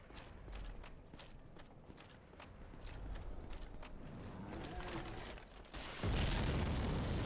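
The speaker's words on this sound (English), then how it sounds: "God, that explosion is way too loud." A loud explosion erupts in the video game Dark Souls, a sudden deep boom bursting in near the end after quieter clattering game sounds.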